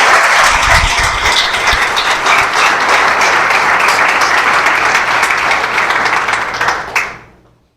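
A church congregation at a sermon bursts into loud, dense applause that holds steady, with a few low thumps early on. It then tapers off and fades out quickly near the end.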